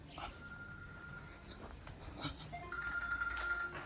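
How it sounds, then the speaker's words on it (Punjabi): A faint electronic phone ringtone plays in repeating tones, getting a bit louder toward the end, over quiet outdoor background noise. "ਫੋਨ ਆ ਗਿਆ"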